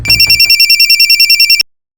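A telephone rings with a rapid electronic trill, loud and close, pulsing in steady bursts before cutting off abruptly; faint background music sits underneath at first.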